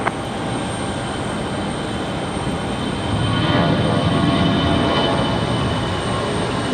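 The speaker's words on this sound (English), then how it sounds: "There's an A319." An Airbus A319 airliner landing on runway 23 right at Raleigh-Durham airport in calm wind, a steady broadband engine roar that holds level throughout and swells a little louder in the second half, with no talk.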